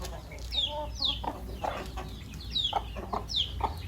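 Young chickens clucking and peeping as they squabble and eat, repeated high chirps and short clucks close by, rising and falling in quick bursts over a low background hum.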